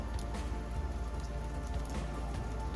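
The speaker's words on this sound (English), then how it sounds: "It's raining today, nothing looks wet." Steady rain patters outside a house with a detached brick fascia, a dense continuous hiss of drops on hard surfaces, fairly close and unbroken throughout, with no voices.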